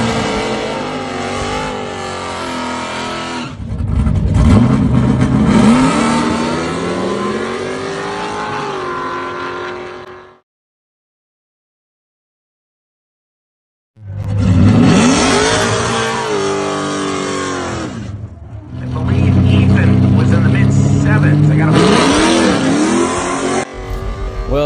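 A drag racing car on a Route 66 trip accelerates hard down the strip, loud close engine roar rising through gears, then a sudden silence before two more bursts of revving acceleration.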